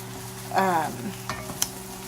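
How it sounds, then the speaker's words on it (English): Two diced onions sweating in a Dutch oven, a soft steady sizzle with a brief stir and a few light utensil clinks, close and fairly quiet, no talking. "I diced up 2 onions and put those in, and I'm just wilting those down a bit, sweating them out."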